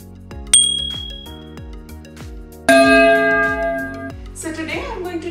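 A bright chime sounds, then a louder ringing bell hit rings out, layered over a plucked repeating musical pattern, with a shimmering tail at the end.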